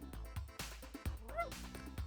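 A dog barks inside the video game RuneScape 3, a few short game-audio bark sounds mixed with background music and effects at moderate level.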